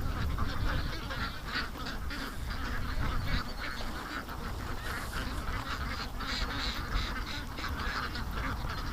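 Ducks squabbling over a frog they have caught, with constant loud, overlapping quacks and honks from several birds nearby in a dense, unbroken chorus.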